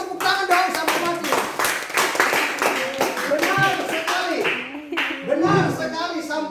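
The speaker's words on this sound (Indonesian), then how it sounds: "Ayo tepuk tangan dong" Church listeners clap their hands in a brief burst while a preacher's voice carries on loudly over them, the claps crisp and close amid the talk.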